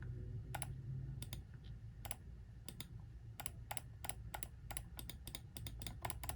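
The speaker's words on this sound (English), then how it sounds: "This one has a nice, satisfying click." A SteelSeries Rival 3 wireless gaming mouse gives sharp, close clicks, single and in quick pairs, scattered irregularly over a low background hum.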